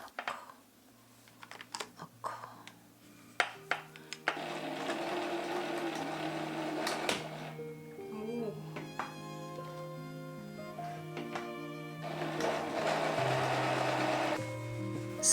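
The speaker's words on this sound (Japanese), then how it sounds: "愛すべき蛇の目のミシン。" A Janome sewing machine zigzag-stitches the edges of a work apron, with short bursts of quick mechanical chattering separated by clicks and pauses, while gentle instrumental music plays underneath.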